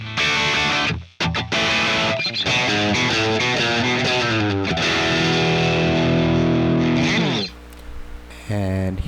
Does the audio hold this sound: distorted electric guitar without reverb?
yes